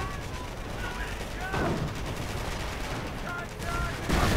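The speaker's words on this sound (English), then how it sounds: "Calliope getting absolutely hammered with Panzer Schrecks." Panzerschreck rockets firing in a Company of Heroes battle, with a dense, continuous clatter of gunfire and blasts and a few louder bursts standing out from the din.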